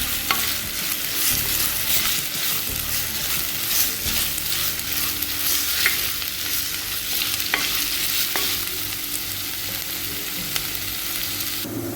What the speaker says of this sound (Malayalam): ഇഞ്ചി ഏകദേശം വഴന്നു വന്നിട്ടുണ്ട്.